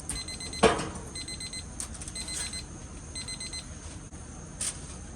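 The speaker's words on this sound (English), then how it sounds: "Our alarm's going off, so let's get in here and verify that we've hit temp." A meat thermometer alarm on a drum smoker cooking pork beeps in repeated short triple-pulse bursts, faint against a low background hum, with a few knocks and clunks nearby.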